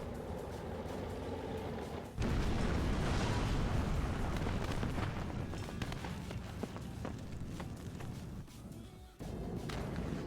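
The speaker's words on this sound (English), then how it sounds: "Chinese tank getting hit by the Abrams." Chinese tank exploding after an Abrams hit in WARNO, a sudden loud blast swelling into a sustained roaring rumble with crackling debris, fairly distant and continuous before a brief dip.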